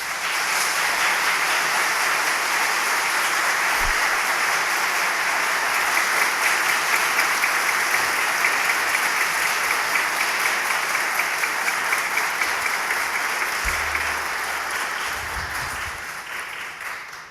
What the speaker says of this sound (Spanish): El público les puede brindar un merecido aplauso.